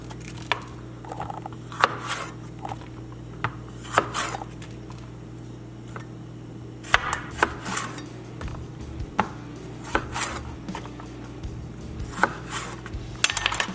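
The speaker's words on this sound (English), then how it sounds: "Just gonna take the ends off these jalapenos. So slice them down the middle." A knife slicing and trimming jalapenos on a cutting board in a kitchen, with scattered sharp taps and knocks at irregular intervals over a low steady background hum, close and moderately loud.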